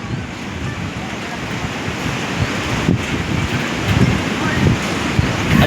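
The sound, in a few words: sea waves surging on the shore during a typhoon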